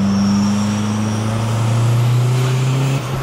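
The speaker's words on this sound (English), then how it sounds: "I don't think I've ever been in a car that goes like this" A remapped pickup truck with a modified exhaust accelerates hard, a loud, close, continuous engine drone heard from inside the cab, its pitch slowly rising before easing off at the end.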